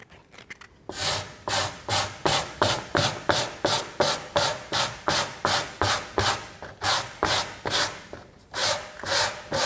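Sandpaper scrubbed back and forth over a styrofoam piece, a steady series of about twenty rhythmic rasping strokes, close and fairly loud, with no talk.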